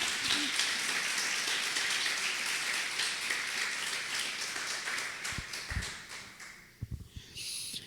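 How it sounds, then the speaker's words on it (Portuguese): A church congregation applauding at a Sunday morning service, dense clapping that fades gradually, then a few scattered claps and a voice near the end. "Você pode aplaudir ao Senhor?"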